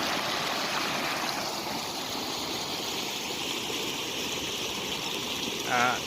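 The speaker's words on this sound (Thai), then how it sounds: "ซึ่งจะไหลไป ทางใต้นะครับ ไหลแรงมากนะครับ" Floodwater rushes strongly across flooded farmland in Wang Mai Khon, Sawankhalok, Sukhothai, a steady loud broadband roar of flowing water heard close and continuous throughout.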